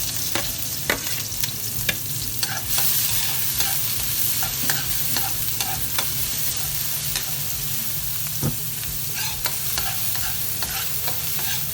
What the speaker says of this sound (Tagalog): Pag mainit na po yung kawali at saka yung mantika, gisahin na natin yung bawang,